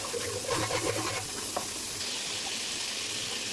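Spices sizzling in a hot pan with a spoon scraping and stirring through them, a steady close frying hiss.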